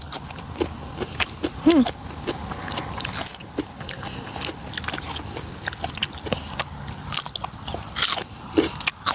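Close, crunchy biting and wet chewing of beef in an outdoor evening setting, with irregular bites and mastication sounds scattered through the stretch.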